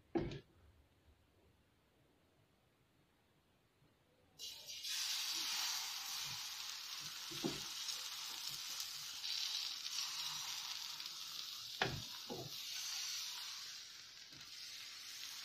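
Paratha batter sizzles in a hot pan with almost no oil, a sharp start followed by a steady, bright hiss that runs to the end, with a few soft clicks and clatters.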